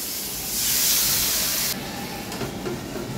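Mutton dropped into a pot of fried onions sets off a loud burst of hissing sizzle that swells for about a second, then settles into a quieter steady crackle.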